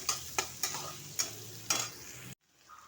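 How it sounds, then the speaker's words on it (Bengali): Chopped onions fry in a pan with a soft sizzle under a series of sharp spatula scrapes and clacks at irregular intervals, then the sound cuts off abruptly to near silence. "কিছুটা কুচো করে কেটে রাখা পেঁয়াজ দিয়ে ভালো করে এটাকে একটু ভেজে"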